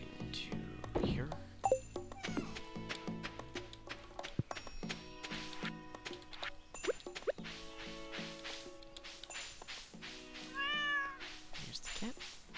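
A cat in the farming game Stardew Valley meows several times among plinking game music and item sounds, the short meows standing out clearly amid the busy, melodic background.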